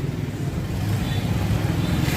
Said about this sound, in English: Oh, a car coming at us.